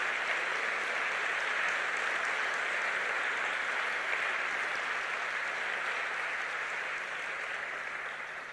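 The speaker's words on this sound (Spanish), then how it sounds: "Dale un aplauso." A church congregation applauds, a steady, even wash of many hands clapping that stays fairly distant and fades slightly toward the end, with no voices over it.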